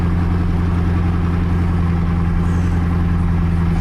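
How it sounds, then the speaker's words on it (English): A car engine idles with a steady low rumble and hum, loud and close, unchanging throughout with no voices. "I don't know if you can hear me, the engine too loud."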